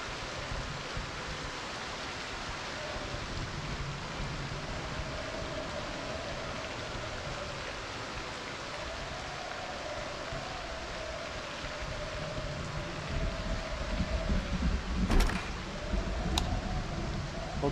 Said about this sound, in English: This rain is really loud